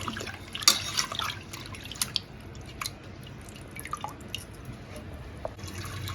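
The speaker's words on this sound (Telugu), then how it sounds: "పప్పుని కడుక్కోవాలి ఒక టూ టైమ్స్" Water splashing and dripping as dal lentils are rinsed in a kitchen, irregular close drips and small splashes over a quiet wet background, with no talking.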